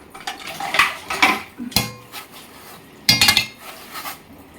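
Dishes and utensils being washed in a home kitchen: uneven bursts of clinking and clattering metal and crockery, fairly close, with short quieter gaps between handlings and no talking.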